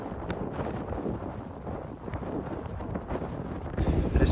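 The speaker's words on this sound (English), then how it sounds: "it's crazy windy here" Strong, steady wind buffets the microphone on a sailboat anchored off Key West around midnight, a continuous low roar that swells louder toward the end.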